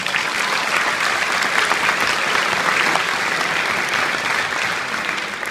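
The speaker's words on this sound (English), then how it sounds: "Give everyone who was involved a cheer" A crowd at the Tartan Day Parade in New York City claps loudly and continuously, a dense, even wash of applause with cheering mixed in and no pause.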